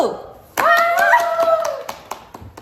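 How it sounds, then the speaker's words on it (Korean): A small group claps hands in a short, sparse burst of distinct claps that taper off, with a voice speaking over them. "박수!"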